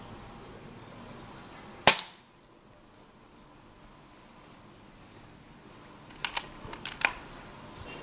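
Sharp airgun shot at night striking a rat, a single crisp crack near two seconds followed by quiet, then a few faint clattering flips and knocks as the headshot rat twitches.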